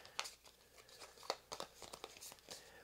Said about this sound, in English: then you're going to go ahead and shuffle up each deck individually